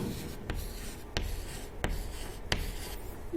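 A pen writing amounts on paper during an accounting worked example, soft scratchy strokes broken by several sharp taps as figures are jotted down, close and quiet with no talk.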